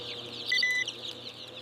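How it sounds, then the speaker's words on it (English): Broiler chickens in a poultry facility, a few brief high clucks and chirps over a low steady hum, moderately close with no speech. "Broilers hatch from eggs."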